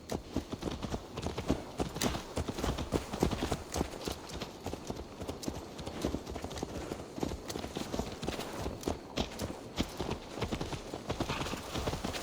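Horse hooves clip-clop steadily at a walking pace in Assassin's Creed Valhalla, close and continuous across the whole stretch, with faint ambient game sound beneath and an occasional snort or whinny.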